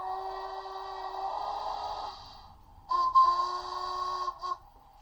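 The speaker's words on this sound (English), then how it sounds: "So that allows you to try 3 different types of whistles" Locomotive whistle from a Locoman sound project: a sustained tonal blast for about two seconds, a short pause, then a second louder, slightly shorter blast cutting off sharply, heard alone.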